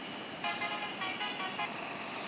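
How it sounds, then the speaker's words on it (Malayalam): Bus horn honking in a bus driving video game, several short blasts in a row sounding loud and close over the steady hum of the engine. "ഹോൺ ഇനി അടിച്ചോ, ചെവി പോട്ടെ."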